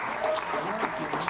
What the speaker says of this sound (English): Applause for Muzzman